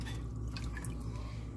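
Water runs faintly into a cooking pot as it is filled for a healthy V8 cabbage soup, a soft continuous trickle with light dripping over quiet room noise.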